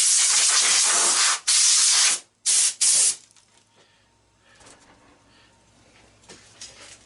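Compressed air from an air hose blasts crud off a scrap electric motor in loud, close hissing bursts, a long one and then two short ones. A quiet hum and faint clatter follow.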